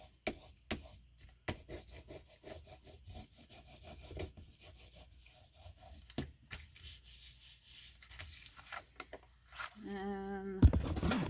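A junk journal writing board is smoothed by hand with repeated rubbing and scraping strokes, rhythmic and close but fairly quiet, ending with a brief voice.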